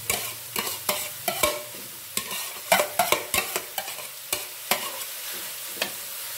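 Bamboo shoots with chicken and shrimp are stir-fried in a hot pan, with a steady sizzle broken by repeated rhythmic scrapes and clacks of a spatula, close and fairly loud, with no voices.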